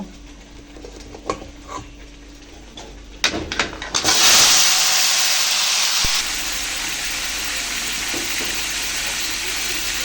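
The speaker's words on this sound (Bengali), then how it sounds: "এখন পেঁপে আর আলুগুলো ভেজে নেব" A sudden loud hiss bursts in and settles into a steady sizzle of papaya and potatoes frying in hot oil, after some earlier clatter and knocks.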